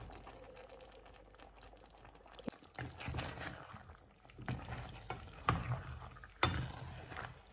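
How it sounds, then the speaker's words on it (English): Stirring vegetables in a pot with soft scraping and clattering strokes, irregular and close, over a low background hiss; no talking. "now that I've added my vegetables, I'll just stir it."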